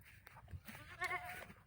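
A goat at a pasture lets out one short, faint bleat with a wavering tone, heard alone after some soft shuffling noise.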